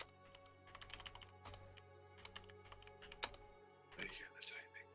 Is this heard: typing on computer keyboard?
yes